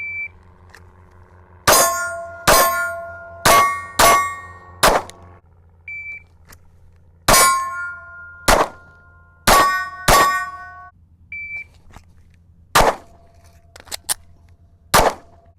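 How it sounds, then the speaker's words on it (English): A PSA Micro Dagger 9mm pistol fires at steel targets outdoors: a series of sharp, loud shots, each followed by a ringing metallic clang, spaced irregularly over about fifteen seconds, with a few faint beeps in between. "Let's take some more shots here on steel."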